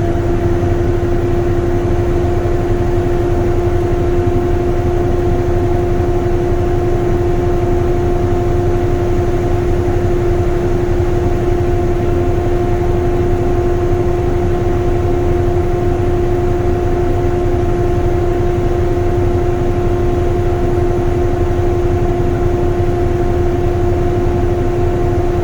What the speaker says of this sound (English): My governor will shut off the air compressor.